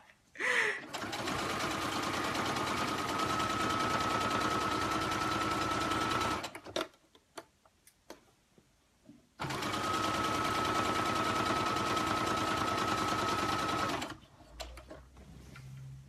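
A sewing machine sews a skirt hem in two long continuous runs, loud and close, with a steady whirring stitch rhythm separated by a few seconds of near silence with faint handling clicks.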